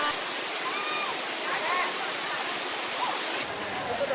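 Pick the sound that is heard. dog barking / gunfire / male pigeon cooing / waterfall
waterfall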